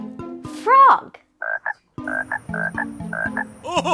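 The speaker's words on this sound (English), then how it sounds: "frog." A frog croaks in a string of short, rhythmic calls, loud and close, as part of a children's animal-sounds lesson; a voice may briefly precede the croaks.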